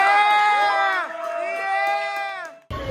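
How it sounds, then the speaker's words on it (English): A crowd on a Royal Caribbean cruise cheers and whoops loudly for several seconds, voices rising over scattered clapping, before the noise cuts off abruptly near the end. "Can we get a round of applause for Kieran for having amazing entertainment the whole weekend?"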